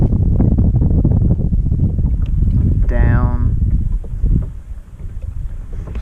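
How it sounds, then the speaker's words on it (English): Strong wind from a tropical storm roars and buffets the microphone throughout at Falls Lake, a constant low rumble with a brief whistling tone in the middle and a voice speaking faintly. "it's a very windy day"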